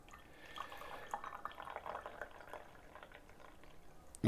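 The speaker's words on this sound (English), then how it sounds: "let's have a look how the tea evolves when we pour the leaf tea" Brewed sencha green leaf tea is poured into a cup in a steady, soft trickle with light dripping and splashing, close and quiet, with no talking.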